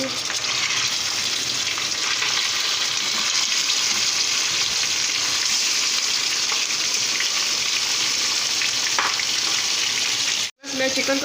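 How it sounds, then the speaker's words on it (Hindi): Chicken pieces fry in ghee over a high flame for karahi, a loud, continuous sizzling roar with faint stirring scrapes, alone and without talk throughout. "मैं चिकन को तेज़ चूल्हे पे भूनूंगी,"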